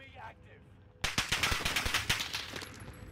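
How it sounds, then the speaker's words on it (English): Rapid assault rifle fire in a Call of Duty match, a sudden burst of about a dozen sharp, evenly spaced shots lasting around two seconds, loud and close after a quieter stretch of game ambience. "Now who's shooting me again?"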